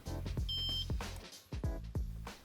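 An alarm system hub gives a short, high electronic beep as it is armed with a key fob, followed by several close, dull knocks and thumps.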